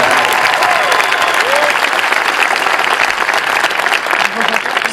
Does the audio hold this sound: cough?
no